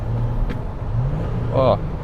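A tuned VW Amarok V6 pickup's engine idles and hums with its exhaust valve closed, a low, muffled exhaust note, fairly quiet and steady, with a brief higher whine partway through.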